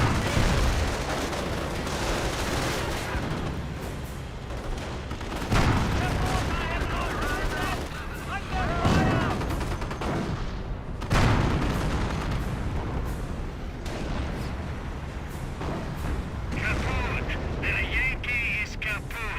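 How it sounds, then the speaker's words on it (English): Mortar smoke rounds firing amid battle in the WWII strategy game Company of Heroes, with repeated booms and gunfire rumbling throughout under steady commentary speech. "Got some mortar smoke running on in."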